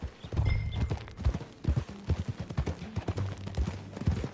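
Horse hooves clip-clop at a steady riding gait in Red Dead Redemption 2, close and fairly loud, with rhythmic low thuds carrying through the whole stretch and faint game ambience behind them.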